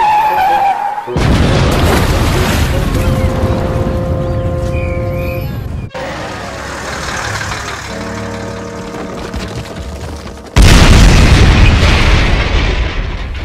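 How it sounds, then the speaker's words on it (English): Loud cartoon explosion effects for a bus named Bulgy blowing up: a sharp burst, then rumbling and ringing tones, a second boom partway through and a final loud blast near the end. "Bulgy exploded."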